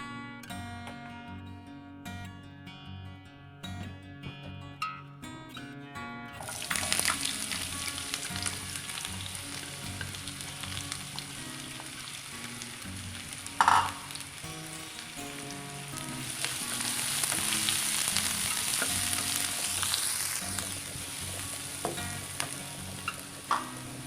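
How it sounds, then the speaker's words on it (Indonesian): Cooking oil being poured and heated in a pan for a red snapper dish with sliced spices; a loud, even frying hiss begins partway through and continues steadily over background music. "Sekarang akan saya tuangkan sedikit minyak."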